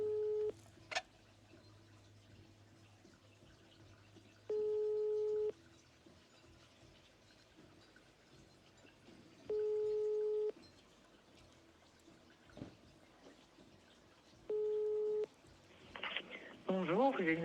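A phone's ringback tone after Siri dials a mobile number: four steady, evenly spaced rings over quiet room hiss, followed by a brief burst of sound at the end.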